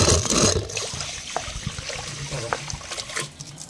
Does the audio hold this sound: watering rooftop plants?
yes